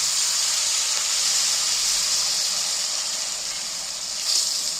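Blended tomato paste hits a hot pan while fried rice masala is cooked, giving a steady, close, broadband sizzle that holds evenly throughout and briefly swells near the end.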